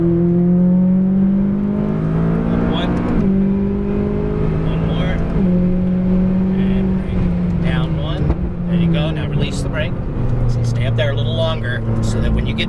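A McLaren 570S at full throttle on a race track, its engine note rising and shifting in steady loud pulls with gear changes, while a driving instructor talks over it throughout.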